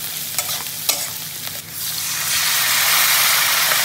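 Lentil dal (masoor) being stirred and cooked in a kadai, with a steady sizzling hiss that swells and thickens toward the end and a few sharp scraping knocks of the spoon early on, close and alone.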